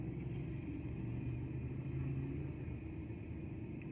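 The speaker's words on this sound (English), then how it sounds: "there's the engine sound. Do you hear the engine sound?" A low, steady engine rumble hums continuously, like a car idling or running nearby, with no voices over it.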